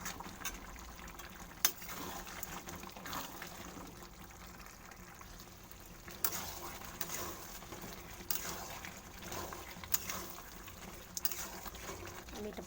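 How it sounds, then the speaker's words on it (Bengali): Mutton and potato broth boiling in a covered pot, a soft steady bubbling with occasional faint clicks, quiet and continuous. "এটা সিদ্ধ হওয়া পর্যন্ত অপেক্ষা করবো আর জালটা হালকা কমিয়ে দেবো"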